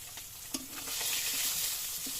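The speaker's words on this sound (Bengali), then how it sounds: "আর তো দেখো মাছটা ভাজলাম" Steady hiss of fish frying in a hot pan, with a few soft clicks and stirring scrapes over the sizzle, no voices.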